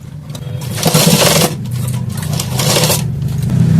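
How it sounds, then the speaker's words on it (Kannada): A sewing machine stitching a katori blouse, running in close, loud whirring bursts with brief pauses between stretches of stitching and no talk. "ಇಲ್ಲೊಂದು ಹೊಲಿಗೆ ಹಾಕಬೇಕು"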